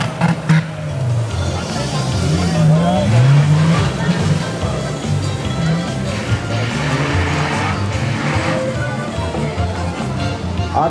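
A Suzuki Vitara 4x4 racing round an off-road time-trial track at Hruštín, its engine droning and revving continuously at moderate distance, with a voice talking over it.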